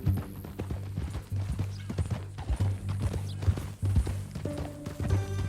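Rhythmic clip-clop of horse hooves in Red Dead Redemption 2 at a steady walking pace, close by, over a low droning musical background.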